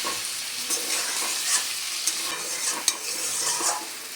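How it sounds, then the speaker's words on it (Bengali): Chicken being stirred in a frying pan after soy sauce goes in, a steady close sizzle with scraping spatula strokes and small clicks throughout, no voices. "সয়া সস দেওয়ার পরেও বেশ কিছুক্ষণ ধরে আমি নেড়ে নেব"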